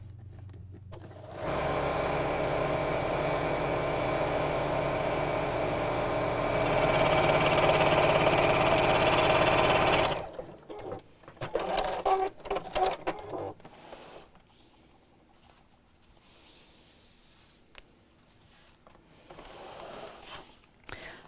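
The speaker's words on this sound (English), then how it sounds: "and just sew down each side" A sewing machine runs a steady, fairly loud top stitch down the sides of a cross-body bag for several seconds, then stops; afterwards come scattered handling clicks and fabric rustles.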